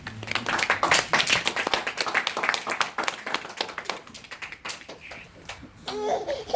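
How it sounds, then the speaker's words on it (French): A church congregation claps together in a fast, steady rhythm of dense, close handclaps that fill the room, with a few voices audible near the end. "On peut acclamer la parole de Dieu"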